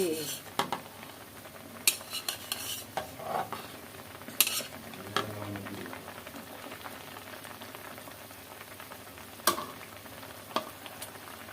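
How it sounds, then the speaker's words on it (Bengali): Eggplant tipped into a hot pan and stirred, giving a steady frying sizzle under scraping and clinking of a utensil against the pan, with several sharp knocks spaced through the stir. "এখন একে একে বেগুনটা ঢেলে দিব"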